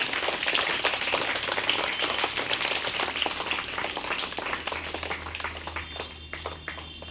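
A school audience claps warmly for a student receiving a second-place prize at a results and gift ceremony, a dense, steady round of applause that gradually thins toward the end.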